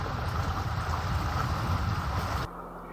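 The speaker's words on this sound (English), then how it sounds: "Breeze has got up quite a bit." Steady wind rushes across a sailboat running downwind under a spinnaker or Code Zero, with a broad roar of breeze and water that stays loud, then drops abruptly to a quieter hiss near the end.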